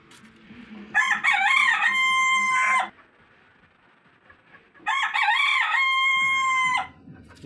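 Rooftop chickens and a rooster, kept shut in late, crowing loudly and close by in two long, drawn-out bursts, with soft clucking in the quiet gap between them and again at the end.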